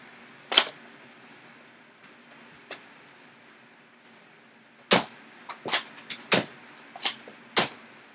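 Pistol shots in a video game: one sharp crack, a fainter one, then a rapid burst of about seven crisp, loud reports near the end, against a quiet background.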